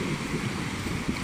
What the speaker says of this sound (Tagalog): Ayan, malakas ang dagat mga idol.